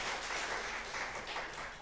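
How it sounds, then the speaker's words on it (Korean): Faint, distant applause from a church congregation at a Sunday worship service, a steady soft wash of many hands clapping without clear individual claps. "한번 뜨겁게 박수 한번 해주시기 바랍니다"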